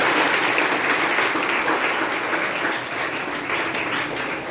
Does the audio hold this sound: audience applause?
yes